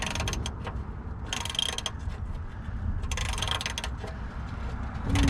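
Ratcheting wrench turning during an oil change on an ASC McLaren car, giving a steady run of fine mechanical clicks with short bursts of faster ratcheting, close by and with no voices.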